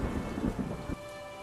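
A heavy thunderstorm with steady rain pouring down and a deep rumble of thunder rolling through, loud and continuous before easing to a softer rain hiss.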